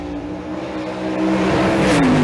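Drag racing cars, including a Nova, building boost and accelerating down the strip at a big drag-and-drive event, a loud steady engine drone that rises and swells toward the end, no voices.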